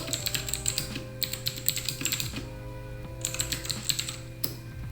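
Someone types on a computer keyboard in quick bursts of close, crisp key clicks with short pauses between runs, over a faint steady background hum.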